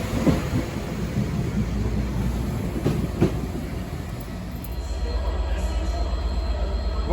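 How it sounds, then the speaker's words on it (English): A passenger train runs along the rails with a steady rumble, broken by brief metallic wheel squeals around the middle; the roar deepens slightly toward the end, with no talk. "World's weirdest, most disjointed train."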